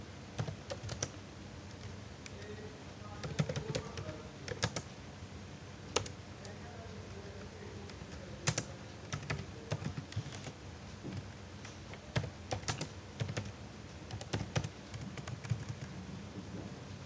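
Commands are typed at a computer keyboard during network device configuration, a quiet stream of irregular key clicks with occasional sharper taps, close and alone.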